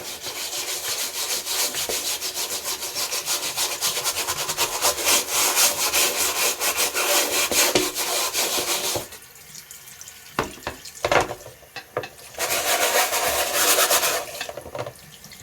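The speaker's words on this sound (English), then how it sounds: "get your little scrub brush, lightly scrub." Small scrub brush scrubbing a wet dryer lint screen with soap and water, a steady close rasping rub for about nine seconds, then a pause with a few knocks before the scrubbing resumes.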